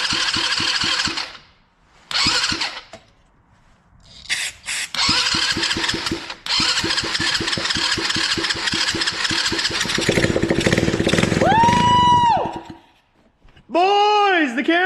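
A drift quad's small engine, running on brake cleaner, cranks and catches several times with pauses between tries, then runs roughly at a loud, close, uneven idle with revving; rising whistling squeals appear near the end and people talk over parts of it.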